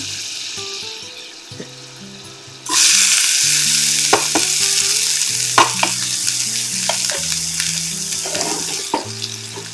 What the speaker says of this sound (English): I'm going to add a little butter to this, and then I'm going to add an onion.